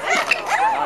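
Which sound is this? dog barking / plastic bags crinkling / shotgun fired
dog barking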